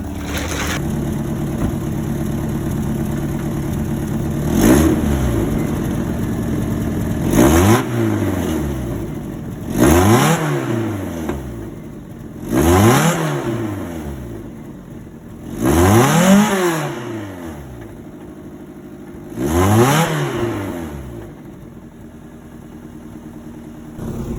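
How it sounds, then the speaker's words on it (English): A car's exhaust at idle is revved six times in sequence, each blip rising sharply and falling back to a steady idle rumble, heard from close by. "I'm gonna do a little exhaust clip because I'm interested to see how it sounds."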